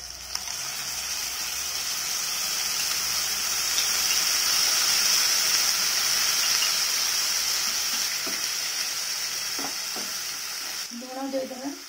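Ground masala paste hits hot oil with fried onions in a pan for a cabbage curry, giving a loud, continuous sizzle and hiss that swells and then eases, with faint clinks of stirring near the end.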